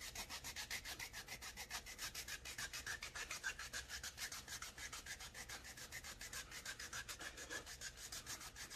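A triple-blade foot file scrapes dry heel skin in fast, even back-and-forth strokes, a close, steady, rhythmic rasping that continues throughout with no talking.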